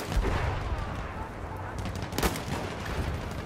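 Gunfire in Battlefield 1 multiplayer Operations on PS4: dense, rattling shots and sharp bursts crackle continuously, with one loud close report near the end of the stretch, and a voice is faintly present beneath.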